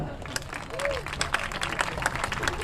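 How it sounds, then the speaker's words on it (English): Audience applause at a school sports event, a Mapletown vs. Avella game, with dense clapping and crowd noise throughout while a voice talks over it, as if over a public address system. "could you give a big round of applause for Ella Brodigan,"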